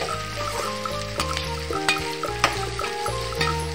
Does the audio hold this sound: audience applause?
no